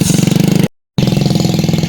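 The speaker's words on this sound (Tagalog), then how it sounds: "Kami naman ni Idol Jokes ang magkasama sa motor niya." Motorcycle engine running close by with a fast, even throbbing beat, loud and steady, cut off abruptly by a brief silent gap before the same chugging resumes.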